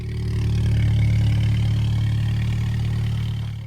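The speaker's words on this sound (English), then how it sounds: "It's running a back box delete with custom pipework done by BS Exhaust Fabrication in Roscommon, Ireland, which really brings the sound to life" A 2015 VW Polo GTI 1.8 TSI with a rear box delete and custom exhaust pipework runs at a steady idle, a deep, even hum heard close up and alone.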